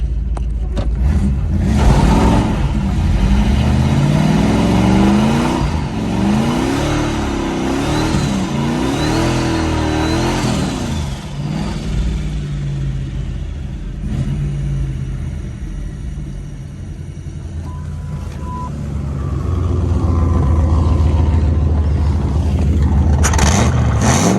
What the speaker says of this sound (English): Do a little burnout.